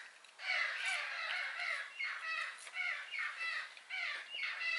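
Several crows caw repeatedly in harsh, overlapping calls that come in bursts across the whole stretch, fairly close and loud, with no talking.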